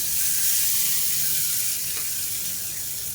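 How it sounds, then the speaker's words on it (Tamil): Hot tempering of mustard seeds, urad dal, curry leaves, asafoetida and dried red chillies poured into coconut tomato chutney, giving a loud, close, steady hiss and sizzle that fades slightly toward the end, with no talking. "இப்போ எப்பயும் போல் கடுகு, உளுந்து, கருவேப்பிலை, பெருங்காயம், 2 வரமிளகா போட்டு தாளித்ததை சட்னியில் கொட்டிடலாம்."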